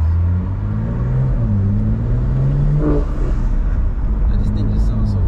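A BMW M340i's upgraded exhaust revs with a deep, throaty rumble that swells and settles, close and loud throughout, heard from the car while it accelerates.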